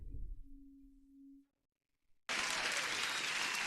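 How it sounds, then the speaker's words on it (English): A sudden loud burst of crowd applause starts abruptly after a quiet stretch, a soft low hum and brief silence, then continues as steady, dense clapping. "One more applause from the beginning."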